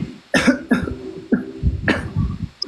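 A few separate, close coughs from a person with a cough and cold, three or four sharp bursts spaced irregularly, with a short throat-clearing rumble between them and no talking.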